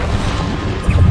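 A Bombarda blasting spell bursts in Hogwarts Legacy, giving a loud, dense low boom and rumble that swells at the end of a brief moment.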